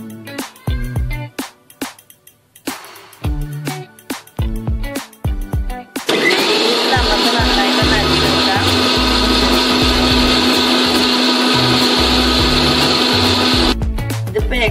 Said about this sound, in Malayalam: ഇനി നമുക്ക് സൺഫ്ലവർ ഓയിൽ ഒഴിച്ചിട്ട് നന്നായി തിക്ക് ആവുന്നത് വരെ ഒന്ന് അടിച്ചെടുക്കണം.